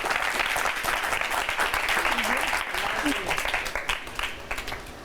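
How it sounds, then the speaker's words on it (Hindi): Audience applause during a live TV mind-reading show, a dense, fairly loud clapping that fades a little toward the end, with someone talking over it. "ताली बजाओ यार"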